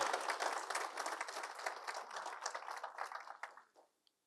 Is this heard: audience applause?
yes